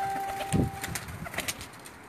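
A breeder pigeon at a Pakistani pigeon loft in Jeddah gives a single short, low coo near the start, fairly close, over a steady background hum.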